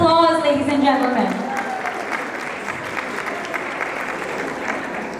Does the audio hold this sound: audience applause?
yes